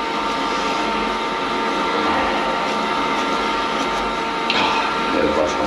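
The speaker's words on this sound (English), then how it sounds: "I'll needle gun it out." A needle gun chatters loudly and continuously as it strips rust from a car body's rear end. The harsh buzz stays close and fills the whole stretch.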